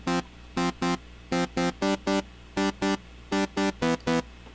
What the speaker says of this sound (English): See? A very simple delay.